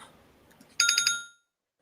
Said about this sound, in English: Man, that's my phone.